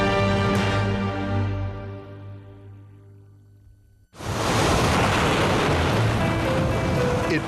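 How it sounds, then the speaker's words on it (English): Pacific Ocean surf on the California coast, a broad, steady roar of breaking waves that enters abruptly after a fading musical tone and then stays loud and continuous. "near the Pacific, the ocean whose name means peace"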